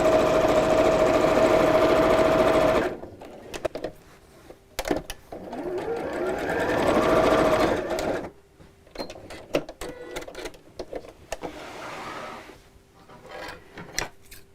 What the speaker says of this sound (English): let's line up the edges here and sew all the way around